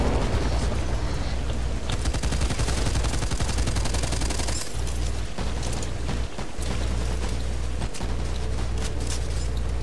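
Rapid, loud gunfire from long-range no-scope shots in the zombie shooter Back 4 Blood, dense overlapping bursts filling the whole stretch with a few brief gaps, no talking.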